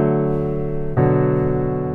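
Piano plays plain root-position triads from a song, one sustained chord ringing and then changing to the next about halfway through, close and alone.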